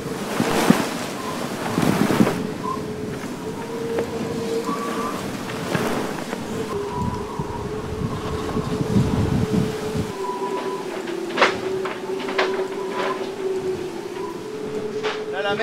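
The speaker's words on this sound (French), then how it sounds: "La mer est bien formée, le vent est en train de forcir" Rough, well-formed sea and a strengthening evening wind aboard a damaged sailing boat on an ocean crossing, a steady rushing wash of waves and wind noise with intermittent thumps, creaks and whistling tones from the boat.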